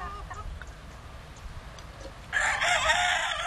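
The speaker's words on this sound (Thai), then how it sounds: "มันเป็นพวกไก่ไข่นะ" Laying hens in a yard cluck faintly, then a loud bird call bursts in near the end, with a dense, harsh crowing or honking quality over low outdoor background noise.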